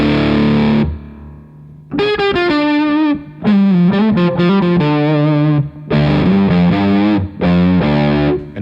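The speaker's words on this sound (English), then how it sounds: "fuzz face type pedal now with the volume or the gain knob almost cranked" Electric guitar through a Fuzz Face-style pedal with the gain nearly cranked, playing loud, thick distorted phrases in several bursts separated by brief pauses, with a faint hiss between them.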